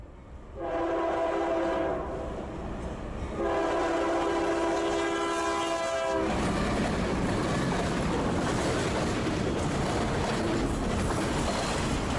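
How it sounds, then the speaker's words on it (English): Two long, loud blasts of a diesel train horn, then the heavy, continuous roar of a short Norfolk Southern autorack freight train pulled by a pair of diesel locomotives rolling past close by. "We see another pair of the venerable diesels pulling an unusually short autorack train."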